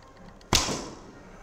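The Sarmat Archery Yuan style Simurgh bow shoots a single carbon or bamboo arrow, giving one crisp, close release snap followed by a brief hum from the string that dies away quickly, with no talking.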